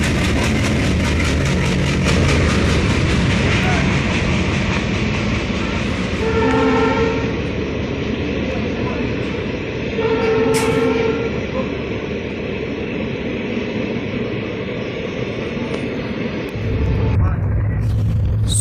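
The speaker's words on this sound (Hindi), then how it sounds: "एल्को लोकोमोटिव के, जो कि ला रहा होता है एनएमजी रेक को" Elco shed locomotive hauling an NMG rake past on Indian railway track, a loud continuous rumble and clatter of wagons rolling by with horn-like tonal blasts, heard from nearby, under someone talking.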